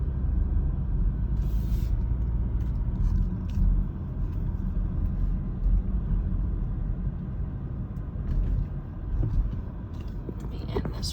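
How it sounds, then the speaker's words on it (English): A car drives down Carolina Forest Boulevard with a steady low road rumble and engine drone from inside the cabin, with soft murmuring over it and a few faint rattles. "I'm just gonna drive the rest of the way down Carolina Forest Boulevard"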